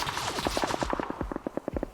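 Rapid bursts of video game gunfire, automatic weapons rattling in quick volleys with sharp repeated shots, loud and close, no talking.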